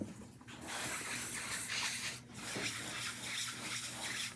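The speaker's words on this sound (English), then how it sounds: "So I'm just going to spray this down with a little water" Water sprays onto a dirty mat being cleaned, a faint steady hissing spray with brief pauses, close by and fairly quiet, over a low background hum.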